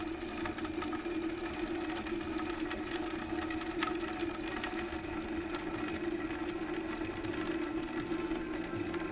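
A Vitamix blender runs at variable speed 3, chopping a quartered onion with a steady, close motor whine and light chopping rattle throughout, no talk.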